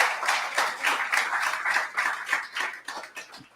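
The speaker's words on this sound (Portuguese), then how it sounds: "Dê um aplauso a Jesus." A church congregation claps in quick, rhythmic unison, a steady run of hand claps at moderate level for a few seconds.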